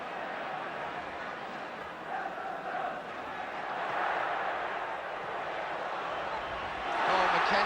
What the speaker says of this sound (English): Oh, Mackenzie, the crowd enjoyed that.